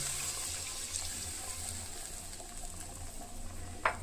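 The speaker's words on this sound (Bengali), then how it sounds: "এবার জলটাকে এর মধ্যে মিশিয়ে দেবো আমরা" Water being poured into a rohu fish curry with potatoes and taro in a village-style Bengali kitchen, a steady soft splashing pour running through the whole stretch at low level, with a brief clink near the end.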